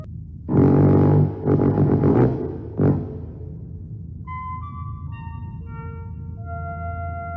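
After a few loud rumbling blasts, a sequence of five clear electronic tones plays, a short melodic signal ringing out over a low hum.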